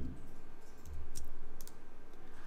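A few mouse clicks on a computer while working in InDesign 2025, small sharp clicks heard close and alone over a faint steady background.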